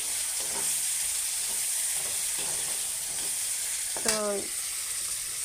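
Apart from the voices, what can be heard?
tomatoes and spices frying in a pan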